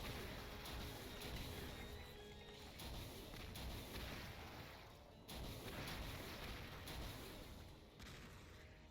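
Rapid, continuous gunfire from flare bullets in the Doom mod Pandemonia, a dense loud barrage that runs unbroken for about nine seconds with only brief dips, with no voices over it.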